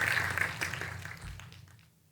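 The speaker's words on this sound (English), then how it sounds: "Give them a round of applause." Audience applause for graduates at a Master of Management Studies graduation ceremony, a broad wash of clapping that fades out over about two seconds.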